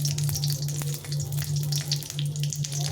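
Dried red chilli and a bay leaf crackle and sizzle in hot oil for a potato and pointed gourd curry, a close, steady frying hiss dotted with small pops over a low constant hum, with no voices.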